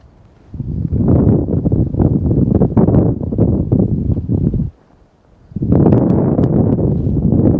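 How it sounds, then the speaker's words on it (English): A cold-front wind blows across open North Dakota country and buffets the microphone in two long, rough gusts separated by a short lull, loud and close. "That wind's blowing just like that."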